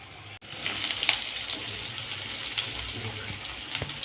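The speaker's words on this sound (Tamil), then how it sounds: "வெங்காயம், பச்சை மிளகா, கருவேப்பிலை மூணும் போட்டு நல்லா வதக்கிட்டுருக்கேன்" Onion, green chilli and curry leaves frying for mutton head curry, a soft steady sizzle and hiss close up, quiet and continuous, broken by a brief dropout near the start and a few faint clinks.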